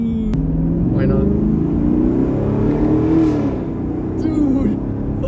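A rebuilt 2021 Chevrolet Camaro SS 1LE V8 revs up close and loud, its deep growl holding steady and rising to a peak midway before easing back, with excited voices breaking in over the engine.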